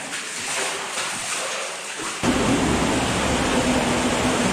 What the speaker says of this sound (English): It's so deep over here. Waterfall too.